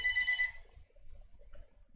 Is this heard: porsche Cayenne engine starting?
no